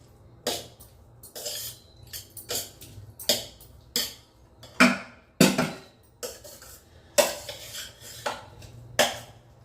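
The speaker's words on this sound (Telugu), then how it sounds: "రైస్ అయితే మిక్స్ చేసేసాం" Tomato rice mixed in a pot, a spoon knocking and scraping against the metal in about a dozen sharp clinks at an irregular pace, close and distinct.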